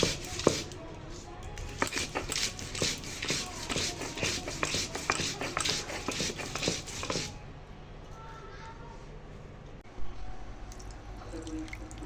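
Mustard seeds and poppy seeds being ground into a wet paste with a little salt and mustard oil, a quick run of rhythmic scraping strokes for about seven seconds, then quiet kitchen sounds.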